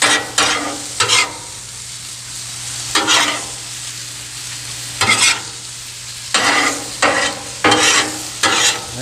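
Brown sugar glazed carrots sizzle steadily on a griddle, broken up by repeated bursts of scraping and stirring at an uneven rhythm, loud and close with no talking.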